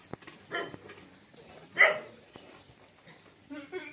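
A dog at a rural home gives a couple of short, faint barks and yips, with a louder bark near the middle, over a quiet background.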